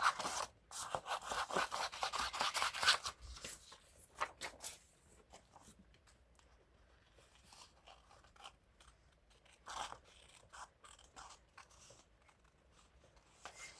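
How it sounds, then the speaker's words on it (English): Paper being cut out with scissors for a gold leaf Christmas journal tag, a dense run of close crisp snips at first, then sparser, quieter cuts and rustles. "So I'm going to cut it out."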